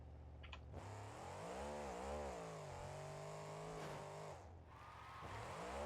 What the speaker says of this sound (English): it'll sound weird because of the high RPM